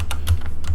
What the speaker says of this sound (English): but you can't see what I'm typing.